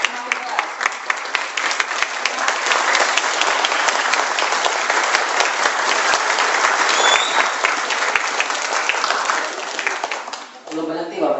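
A seminar audience breaks into loud, enthusiastic applause, dense clapping that holds strong for about ten seconds before fading out, with a voice speaking briefly at the end.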